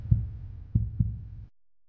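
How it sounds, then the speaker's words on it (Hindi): Three deep, muffled heartbeat thumps sound close and alone as a horror-story effect, spaced unevenly, then cut to silence. "गोपी का दिल जोर से धड़कने लगता है।"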